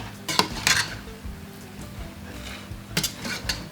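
Coconut rice being stirred and fluffed in a pot: a few scraping, clinking strokes of a utensil against the pot, close and moderately loud, separated by quieter pauses with a low background hum.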